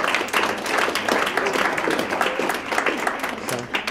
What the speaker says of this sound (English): those people really deserve a round of applause too